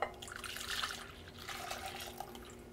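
Warmed milk poured into a dish of sliced potatoes for gratin dauphinois, a steady close liquid stream with soft splashing that runs for a few seconds without talking.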